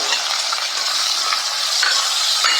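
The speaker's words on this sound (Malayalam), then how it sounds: "കടുക് പൊട്ടി കഴിയുമ്പോൾ നമ്മൾ അതിട്ട് കൊടുത്ത് വഴറ്റുന്നു" Chopped onion, green chilies and curry leaves sauté in hot oil after mustard seeds pop, a dense, steady sizzle that stays even throughout with no talk.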